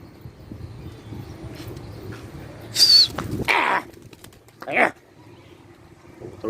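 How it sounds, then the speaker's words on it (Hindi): Pigeons in a Karachi kabootar bazi flock burst into flight with a few short, loud flurries of flapping wings, heard near and separated by quieter gaps, with someone talking around them. "कबूतर उठा दिए दोस्तों।"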